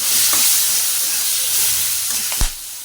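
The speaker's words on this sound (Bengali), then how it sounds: "আর এখানে এখন পেঁয়াজ দিয়ে দিব, পেঁয়াজ।" Onion dropped into a hot pan on a home kitchen stove after eggs were fried, giving a steady close sizzle and frying hiss with a sharper burst near the end.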